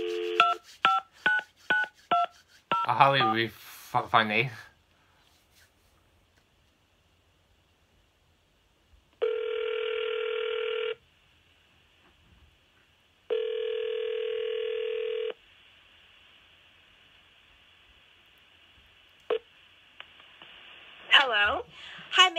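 Telephone call being placed: a quick series of touch-tone dialing beeps, then two long ringback tones separated by silence, with brief voices talking at the start and end.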